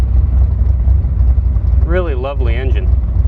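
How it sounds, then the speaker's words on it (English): A Cobra with a 408 stroker V8 idles with a low, steady rumble, while a person talks over it partway through. "This 408 sounds so nice too at idle."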